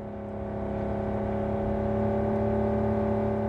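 A car in Cyberpunk 2077, driven by Jackie, pulls away with a steady engine drone that rises and holds loud and close, with whirring tones and no talk.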